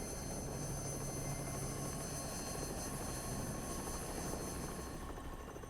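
Steady, continuous engine drone with a low rotor-like throb, loud and unbroken throughout, consistent with a helicopter in flight nearby.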